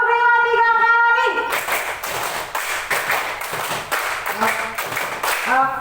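A classroom of students claps a counted rhythmic pattern. A sustained chanted voice comes first, then a run of loud, sharp group claps in quick, regular beats, with voices returning near the end.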